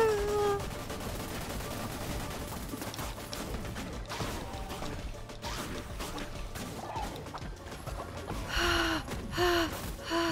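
Fireworks go off in Cult of the Lamb, a fast run of crackling, popping bursts that continues steadily and grows louder near the end.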